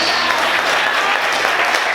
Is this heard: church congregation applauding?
yes